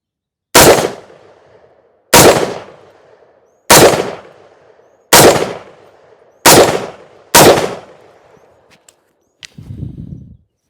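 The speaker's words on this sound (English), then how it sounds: "These are the very first shots with the POF Revolution." Six evenly spaced, very loud rifle shots from a POF Revolution piston .308 Win fired at close range outdoors, each a sharp crack with a short decaying tail, followed by faint metallic clicks and a low rustle.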